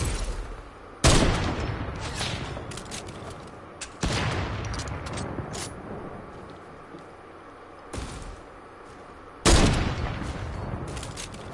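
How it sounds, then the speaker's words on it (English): Video game shooter gunfire: loud bursts of rapid shots break out in four separate volleys, each sharp onset trailing into a rolling rattle of distant fire and echoes. "Is that y'all shooting or them?"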